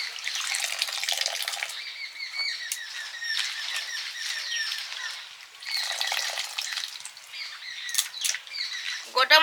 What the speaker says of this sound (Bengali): আবার একবার জল দিয়ে পরিষ্কার করে ধুয়ে নিচ্ছি।